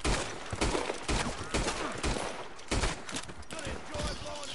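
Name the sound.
gunfire shooting from the hip in video game Red Dead Online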